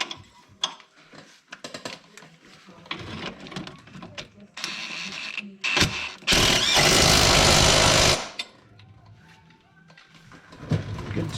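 Motor mount bolt being tightened on a snowmobile, heard as a run of clicky ratcheting and metallic tool clatter, with a loud sustained burst of ratchet or power-driver noise in the middle, close and without talk.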